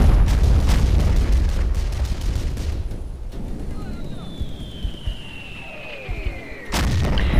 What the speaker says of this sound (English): The Germans have returned fire.